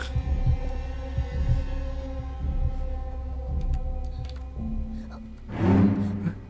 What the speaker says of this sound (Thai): ใช่มันเต้นตึกตึกตักตักอีกแล้ว